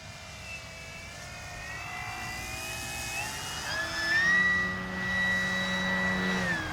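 A Flex Innovations RV-8 G2 RC plane flies overhead, its electric motor giving a steady whine that rises and shifts in pitch as it passes and maneuvers, moderately loud at middle distance with no talking.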